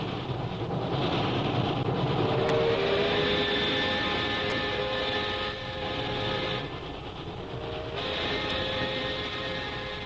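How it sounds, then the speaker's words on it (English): Steady rumble and rhythmic rattle of a passenger train travelling toward Calcutta, a radio drama sound effect, loud and continuous with faint periodic clicks, heard alone without voices. "Several days later, we find Jungle Jim and Shanghai Lil on a train bound for Calcutta"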